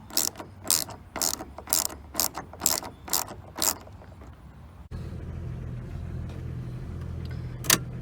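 A Craftsman ratchet tightens 10 mm nuts during a louver install, giving a rapid series of about ten crisp, close clicking bursts, then a steadier low engine-like rumble with one sharp click near the end.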